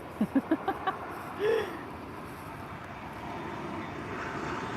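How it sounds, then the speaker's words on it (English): A Ryanair Boeing 737 airliner passes near Lisbon airport as a steady, fairly distant broadband roar that swells slightly toward the end, with a few short hoot-like calls at the start. "Not as much excitement, but a Boeing 737 nonetheless."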